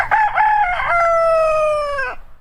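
A rooster crows once, loud and close, giving a full cock-a-doodle-doo of about two seconds that rises and then holds a long, drawn-out final note with no talk over it.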